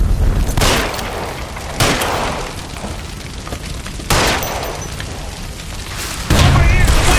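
Heavy booming blasts tear through a burning building in L.A. Noire as the gas line explodes, several loud bursts with roaring fire and debris between them, under shouted voices.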